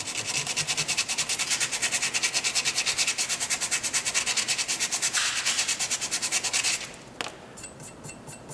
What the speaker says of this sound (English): I'm going to do it the old-fashioned way with some sandpaper, and we're going to take away the paint this way.